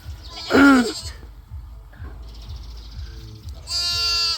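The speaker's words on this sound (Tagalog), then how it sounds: "Ito mga kambing nila dito." Goats bleat nearby on a tobacco farm: one loud wavering call early on, then a second long bleat near the end, with quieter rustling and shuffling between.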